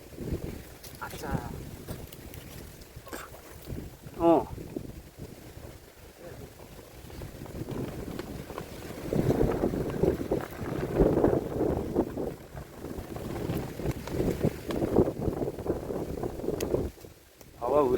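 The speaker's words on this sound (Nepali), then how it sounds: "हावाहुरी यस्तै छ।" Strong windstorm gusts roar through a village, buffeting the microphone in waves that swell louder toward the middle and end, with someone speaking briefly over the noise.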